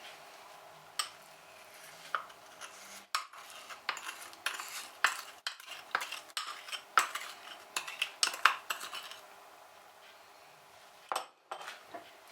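Yeast starter is stirred into carrot Easter cake dough in a bowl, irregular clinks and scrapes of a utensil against the dish, close and moderately loud, pausing briefly before a few final knocks.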